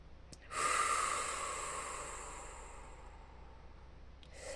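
One deep breath: a slow, close exhale of airy hiss fades gradually over a few seconds, followed by the faint start of another breath. No one speaks.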